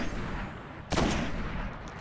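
A single sharp gunshot cracks out in Destiny over a steady hissing game ambience, one loud report followed by a lingering tail.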